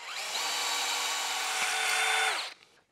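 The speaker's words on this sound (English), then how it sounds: "Going to be drilling the same 1/4-inch through hole." A power drill boring a 1/4-inch through hole, one sustained whining run of about two and a half seconds that rises slightly in pitch before spinning down, loud and close with no talk.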